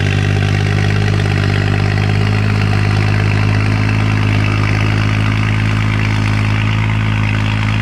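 An old Dodge engine runs steadily at idle with a rattling, cowbell-like clank, a constant loud low drone heard close up with no break for the whole stretch.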